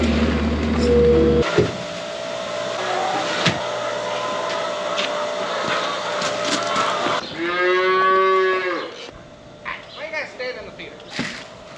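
A cow moos loudly nearby, a long drawn-out low call, over a steady mechanical hum and background noise.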